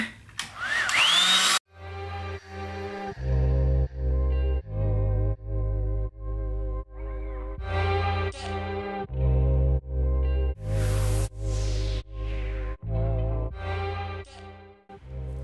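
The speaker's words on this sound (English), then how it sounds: "put my blow dryer on, and go to work." After a brief rustle, a hair dryer's motor whirs in repeated on-off bursts, each a second or so long, close by, while blow-drying natural curly hair straight.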